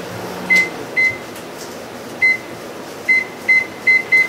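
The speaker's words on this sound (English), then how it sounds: "So I've got the microwave here." A microwave warming bacon hums steadily while a series of short, high electronic beeps sounds at uneven intervals.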